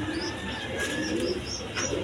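Pigeons of a large-sized breed cooing in a pen, soft repeated low coos over a steady background hum with faint chirps from other birds.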